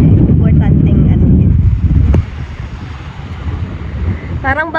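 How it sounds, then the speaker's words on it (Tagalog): Strong coastal wind on Camiguin island roars loudly against the microphone, buffeting hard at first and then easing into a lower rush, with voices faintly underneath. "Sobrang lakas na ng hangin na tupa yung tripod."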